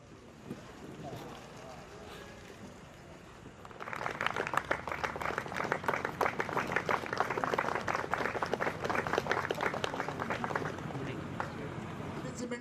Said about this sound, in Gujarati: જોરદાર તાળીઓથી વધારશો